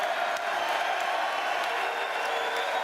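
A UK boxing crowd cheers and applauds for Chris Billam Smith in a steady, dense roar of clapping and whoops that holds evenly throughout without a break.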